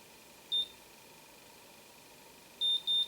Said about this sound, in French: Ça bip pour dire que c'est en train de chauffer.